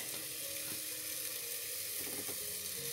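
Mushrooms sizzling in a pan while cooking for beef bourguignon: a steady, quiet frying hiss with occasional soft clinks and stirring scrapes, close and continuous.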